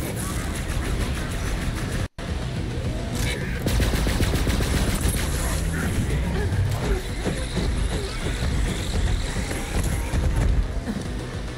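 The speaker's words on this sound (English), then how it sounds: "This gun runs out of ammo really quick." Rapid gunfire from a fast-firing gun in the video game Borderlands 3 rattles in dense, continuous bursts with impacts and effects layered over it, while a voice talks over the action.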